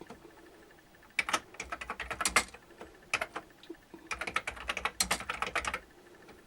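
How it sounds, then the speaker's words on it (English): Typing on the mechanical keyboard of an Amstrad CPC464 computer, two bursts of rapid, crisp key clicks close up, separated by a short pause, with no talk. "the keyboard is a real mechanical keyboard, and it's really nice to type on"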